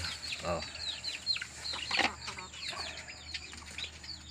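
Chickens cluck and chatter close by in a busy yard, with short scratchy calls and a brief burst of wing flapping amid low background noise.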